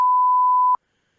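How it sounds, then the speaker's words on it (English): A single steady censor beep, a pure electronic tone that holds for under a second and then cuts off abruptly into silence. "We'll beep that too"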